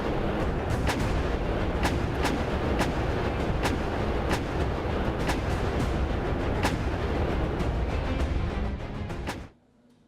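An M777 howitzer firing Excalibur ammunition at Pokhran, with a steady series of sharp reports over a heavy, continuous rumble, loud throughout before cutting off abruptly near the end.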